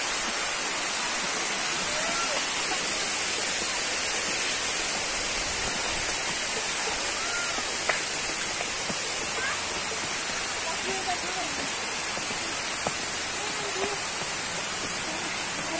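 Sungai Mudal river in Kulon Progo, Yogyakarta, rushing steadily as a loud broadband wash of flowing water, continuous throughout with no pauses; a busy holiday setting surrounds it.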